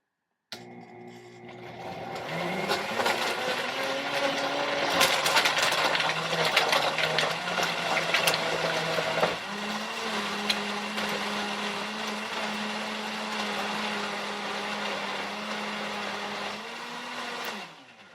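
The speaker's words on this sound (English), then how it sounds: "it just blended everything up" A Cleanblend 1800W, 3HP commercial blender blends a fruit smoothie with spinach and frozen berries: a loud, steady motor whine that starts abruptly, shifts pitch as the frozen chunks break down, then runs evenly before cutting off.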